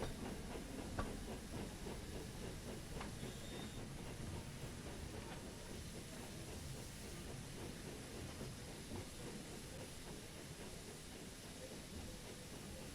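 A video game train pulling up to a stop rumbles steadily with a hissing, clattering wash of rail noise, constant and fairly loud, no voices heard.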